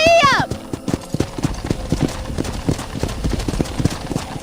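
A horse ridden in Red Dead Redemption whinnies briefly, then gallops with close, loud, rhythmic hoofbeats on the ground; voices are heard alongside.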